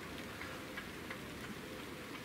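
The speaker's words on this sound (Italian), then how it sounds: "Ha cominciato a piovere." Rain begins to fall as a faint, steady patter of small droplets, quiet and diffuse with a few soft ticks and no voices.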